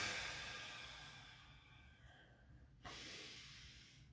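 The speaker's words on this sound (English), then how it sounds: "Deep breaths." Slow, deep breaths during a guided meditation, faint and close, with a long soft exhale fading and then a new breath drawn in near the end.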